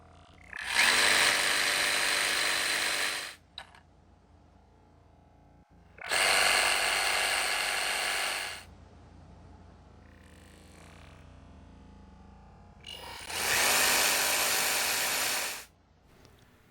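Compact reciprocating saws, a Skil and a Milwaukee M12 Fuel, start up one after another in three loud, buzzing runs of a few seconds each, separated by quiet gaps, close by with no talk.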